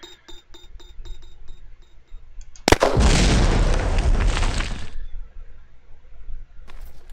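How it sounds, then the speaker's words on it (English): A grenade blast in the video game Red Crucible Firestorm: a sharp crack followed by a loud, broad roar that rumbles for about two seconds, preceded by quieter game sounds and tones. "Press G to throw a grenade. Frag out."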